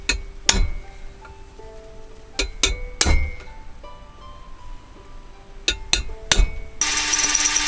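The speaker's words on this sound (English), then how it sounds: "what I'm doing now is punching the holes so I can pre-drill them to make the holes to aerate the fire" Sharp metallic hammer strikes on a punch mark holes in sheet metal for a hobo stove, arriving in irregular pairs and clusters with ringing decay between them, ending with a louder rasping noise like drilling.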